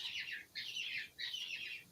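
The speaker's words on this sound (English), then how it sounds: "hear my bird" Pet bird chirping and squawking indoors in three raspy, bright bursts close to the microphone, with short pauses between them and no talk.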